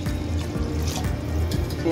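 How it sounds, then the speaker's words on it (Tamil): Thin coconut milk is poured into tamarind water for a fried vegetable gravy, giving a close, continuous liquid pouring and splashing sound with slight trickling variations. "இப்போ புளி கரைச்சலோட மேலே இந்த தண்ணி பால், தேங்காய் பால் அதையும் சேர்த்துறேன்."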